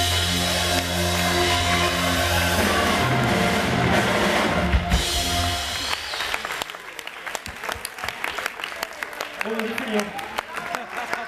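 Crowd applause for performers at an Italian stage show, dense clapping mixed with music and a loud voice for the first six seconds, then thinner scattered claps continuing to the end.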